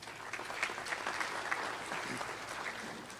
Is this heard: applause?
yes